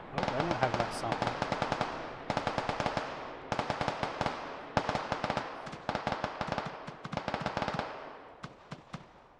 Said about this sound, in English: they were shooting out there at the water